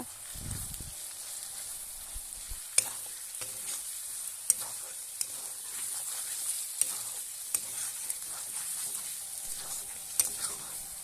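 Cumin and coriander paste frying in a pan of oil for a jackfruit chicken curry, with a steady sizzle throughout. Occasional sharp clicks and stirring scrapes rise above it, and no one speaks.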